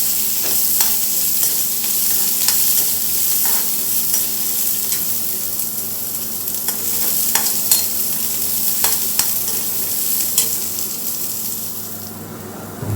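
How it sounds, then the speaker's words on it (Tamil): Onions sautéing in a pan while making snake gourd kootu and poriyal: a steady close sizzle of frying, broken by frequent scraping and clicking strokes of a spoon stirring, with no talking. "வெங்காயம் போட்டு நல்லா வதக்கிக்கலாம்"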